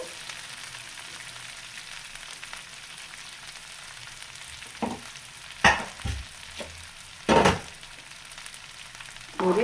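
Coriander leaves frying in a medium pan over medium heat, a steady low sizzle broken by a few sharp spatula scrapes and stirring knocks in the second half.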